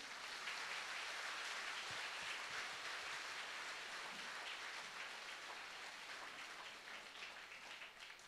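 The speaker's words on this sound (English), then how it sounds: "Let us praise the Lord by clapping our hands." A church congregation at a Divine Retreat Centre in Nuvem claps hands in praise, making a dense, continuous patter of many hands that holds steady for several seconds before easing slightly, with no voices over it.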